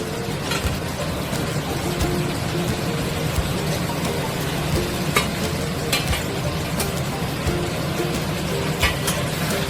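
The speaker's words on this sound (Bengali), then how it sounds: "এবারে এতে ভেজে রাখা আলুগুলো আমি দিয়ে দেবো।" Fried potatoes are tossed and stirred in a pan with a blended masala, a continuous close sizzle with scraping spatula strokes and occasional clicks throughout.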